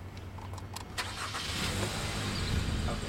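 A Hyundai car engine cranks briefly and catches, then settles into a steady idle close by, heard alone.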